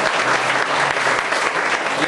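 Audience at a Christmas show clapping loudly and steadily, a thick, even wall of applause filling the whole stretch without pause.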